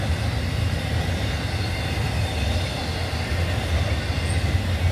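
A CSX intermodal freight train heading northbound rolls steadily past at close range, a continuous loud rumble of wheels and cars with no voices.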